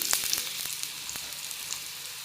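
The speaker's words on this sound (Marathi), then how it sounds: "सगळे तळून घ्यायचे" Potatoes frying in hot oil give a steady, moderate sizzle, with a few sharp spatters and crackles near the start and no voices.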